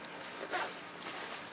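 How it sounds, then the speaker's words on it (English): A YKK zipper on a 5.11 Tactical HAVOC 30 backpack gives a single short, quiet zip, faint and close with no voices. "It's got YKK zippers. They work."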